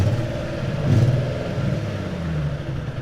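Will's 350 sports car engine running with a misfire after skid-pad abuse, a steady low engine drone with an uneven, lumpy pulse and a brief swell near the middle, close and fairly loud.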